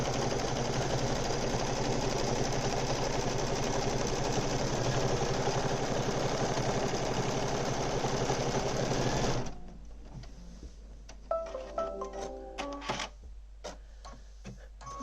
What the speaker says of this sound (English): As you can see, it's stitching out Minnie Mouse